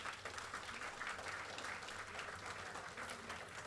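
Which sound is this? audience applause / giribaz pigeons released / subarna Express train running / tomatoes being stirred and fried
audience applause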